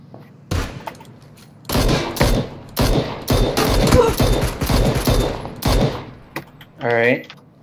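Bursts of gunfire in the battle royale game PUBG, loud volleys and rapid fire cracking in clusters across the stretch, with a brief tonal sweep near the end.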